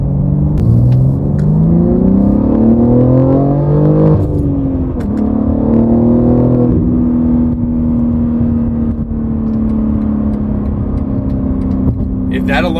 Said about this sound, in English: Even with the windows rolled up and the insulation of the car, you can hear that exhaust.